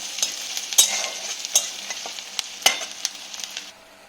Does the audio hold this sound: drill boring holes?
no